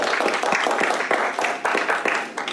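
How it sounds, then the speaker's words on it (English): Loud, dense clapping from an audience fills the whole stretch, steady and close, with no voices over it. "Let's give Nicole a big round of applause."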